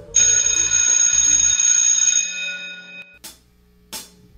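A school bell rings to signal the end of class, a loud sustained metallic ring lasting about three seconds before cutting off, followed by two brief faint clanks.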